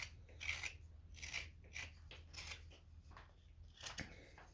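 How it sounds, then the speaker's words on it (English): A knife carving wood for a small hand-carved boat, heard as repeated short scraping cuts in a steady rhythm, about one every half second, close and quiet. "So we're just going to take that knife and just kind of cut that away."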